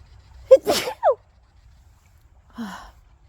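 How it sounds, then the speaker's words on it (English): A single close sneeze with a sharp inhale before it, followed by a soft sigh. "I have to sneeze."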